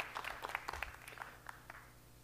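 Faint, scattered applause from a seminar audience at the EuroTier 2022 agricultural fair, a few distant claps that thin out after a second over a low hum of the room.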